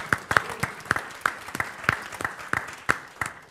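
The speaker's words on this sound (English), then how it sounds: "So a big applause to the audience for staying along with us here" Audience at a science, policy and financing conference seminar claps in a sparse, steady rhythm, with about a dozen distinct, fairly close claps over a few seconds and no voices.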